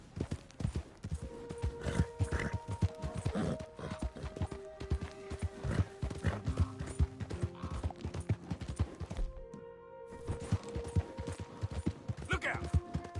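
A horse gallops in Red Dead Redemption 2 with rapid, rhythmic clip-clop hoofbeats running almost throughout, broken by a short lull. Game sounds and a voice briefly break in.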